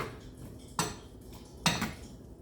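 A spoon stirs a pasta mixture in a pot, giving two sharp metallic clanks against the pot over a quiet background with soft scraping between them.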